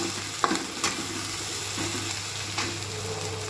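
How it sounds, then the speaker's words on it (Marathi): Onion fries in a pan with a steady soft sizzle, interrupted by a few scraping stirs of a spoon against the metal. "कांदा व्यवस्थित हलवून घेऊया"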